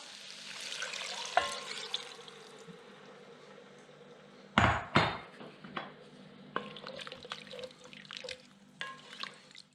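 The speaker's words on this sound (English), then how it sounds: "We're going to add the broth." Broth poured into a pot of Lebanese red lentil soup with vegetables: a steady, close liquid rush and splash, broken midway by a couple of loud clanks against the pot, then softer drips and knocks.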